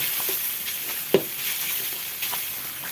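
Marinated pork fries in a hot pan, giving a steady, close sizzling hiss broken by a couple of sharp pops or utensil taps.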